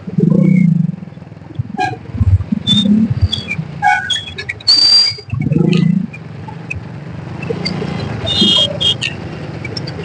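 Traffic on a busy main highway: heavy vehicles rumble past in a few loud bursts, with sharp horn toots and engine whine scattered over a steady background of road noise.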